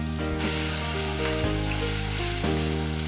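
Steady loud sizzle of whole spices frying in oil with chopped tomato added to the pan for a Bengali fish curry, continuous and close, with faint stirring and no talk.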